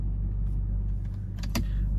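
A Nissan Patrol Y62 4WD drives off-road, its low engine rumble steady and close throughout, with a brief rattle and squeak near the end.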